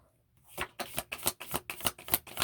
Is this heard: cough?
no